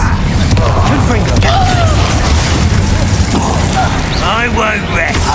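A Confringo fire spell bursts in Hogwarts Legacy, a loud booming blast layered over continuous game noise and a voice speaking throughout.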